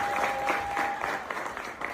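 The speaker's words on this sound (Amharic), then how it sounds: "እስኪ ጭብጨባ" A crowd claps steadily for about two seconds, a dense patter of applause at moderate distance with a brief steady tone in the first half.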